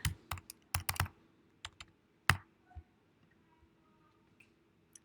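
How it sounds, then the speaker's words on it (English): Keys clack on a computer keyboard as an email address is entered, a quick irregular run of sharp clicks followed by a few scattered taps, fairly close and otherwise quiet. "So if I type in the email address,"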